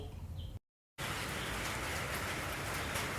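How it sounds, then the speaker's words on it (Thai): Steady morning rain pours down on a Thai neighbourhood in Om Yai, a dense even hiss close by that stops for a brief moment and then resumes just as loud. "ฝนยังตกอยู่ ตอนนี้ก็ยังตกนะครับแปดโมงกว่าแล้ว"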